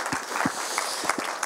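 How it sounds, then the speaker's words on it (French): Audience applause at a closing address of a French-speaking meeting, steady scattered clapping filling the short moment with a few louder claps standing out. "Applaudissons-les."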